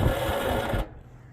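An old John Deere GX75 lawn tractor engine cranks on its starter for under a second, a loud close mechanical whirring that abruptly cuts off into near silence.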